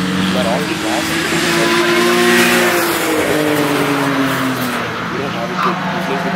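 A supercharged car on the front straight at Mosport during a track day: its loud, close engine note falls away as the driver lifts off the throttle, with a voice talking over it.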